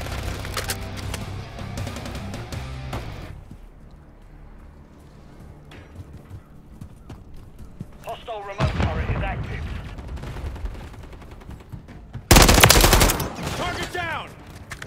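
Gunfire in the video game Call of Duty, with rapid automatic bursts and a loud close volley near the end over battlefield noise, while voices shout amid the shooting.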